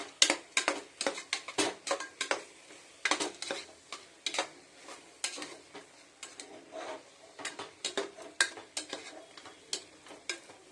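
Vegetables for a simple vegetable rice fry in a pan while a spatula scrapes and stirs, giving repeated sharp metallic clinks in an uneven rhythm over a faint sizzle, close and clear with no talking.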